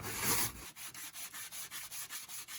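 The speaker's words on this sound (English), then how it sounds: "Now we're just going to try and sand it." Wood is sanded by hand in a narrowboat bedroom, one longer scrub followed by a quick, regular back-and-forth rasp of about a dozen close strokes, with no voices.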